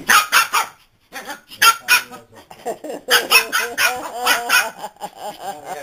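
Chihuahua puppies playing, with a rapid string of high, yappy barks and squeaky yelps close by, coming in repeated bursts with brief pauses between them.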